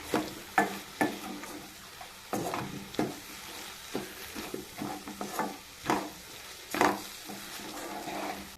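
Tomatoes and chili powder get stirred in a hot pan for ridge gourd curry: low sizzling with a string of distinct spoon scrapes and taps against the pan, nearby and fairly quiet, no speech.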